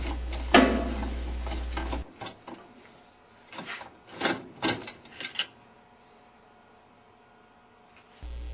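A ratchet turned on a 1/2-inch extension bar loosens the holding screw of a Whirlpool washer agitator, giving quiet clicking and scraping bursts, a sharp knock early on, then a cluster of ratcheting clicks before fading.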